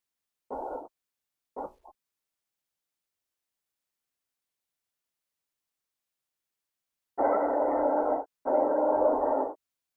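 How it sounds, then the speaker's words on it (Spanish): An alert tone from the seismograph at the Tetela monitoring station for Popocatépetl volcano: two short beeps, then a pause, then two longer sustained tones, electronic and clean with no voices. "Ese es el sonido de la alerta que tiene configurado."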